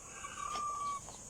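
A gamecock gives one brief, faint cluck, a short single call against quiet background noise.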